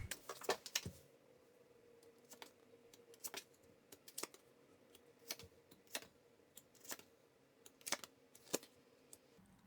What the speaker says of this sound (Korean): 잠시 심호흡하는 동안 제가 카드 뽑아볼게요